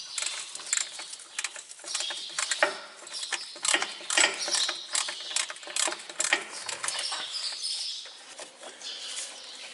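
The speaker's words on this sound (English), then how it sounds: "you need a 7/16 wrench to get it off." Wrench work on the brakes of an OBS Ford pickup, loosening a wheel cylinder bolt with a 7/16 wrench: dense, scratchy mechanical clicking and rattling, irregular bursts close up, with no talk.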